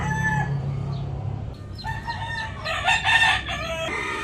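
A rooster crows nearby in a clear, loud, drawn-out call that rises and breaks into several strained notes, following a quieter stretch of low background murmur and faint clucking.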